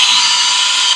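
A power tool grinds a bolt spot on a Scout engine down to bare metal for a ground strap, giving a steady, loud, high-pitched whine for about a second with no talking.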